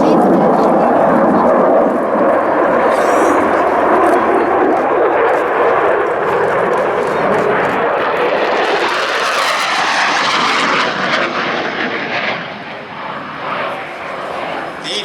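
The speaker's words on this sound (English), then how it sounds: "he'll accelerate to just under the speed of sound for a high-speed pass." Fighter jet with EJ200 engines making a high-speed pass at an air festival, a loud, sustained roar that swells and shifts in pitch as it sweeps past, then recedes.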